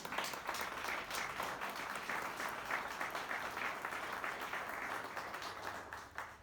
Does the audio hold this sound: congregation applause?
yes